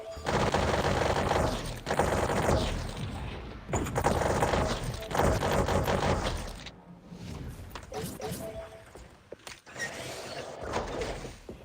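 Rapid automatic assault rifle fire in a VR shooter game, loud sustained bursts with short gaps, the firing thinning into scattered shots near the end.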